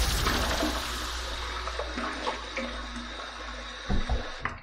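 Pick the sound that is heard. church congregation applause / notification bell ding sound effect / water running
water running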